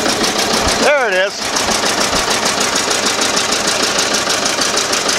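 A 1908 Cadillac engine runs close and loud with a rapid, even mechanical clatter, the regular valve and firing beats continuing throughout; a brief voice cuts in near the start.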